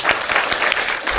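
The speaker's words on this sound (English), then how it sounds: "let's give them a round of applause" An audience at a religious feast gathering applauds, a short burst of brisk, dense clapping from a crowd lasting just over a second.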